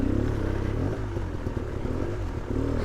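Dirt bike engine droning steadily and loud, close up, while riding through muddy ruts, with some clattering and scraping from the bike over rough ground and no talk.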